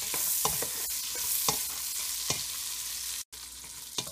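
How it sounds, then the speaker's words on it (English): Sausage frying in bacon oil in a pan for cabbage sizzles steadily, with a few scraping stirs and utensil taps over the constant hiss. "you're going to let your sausage cook in the bacon oil for 3 minutes"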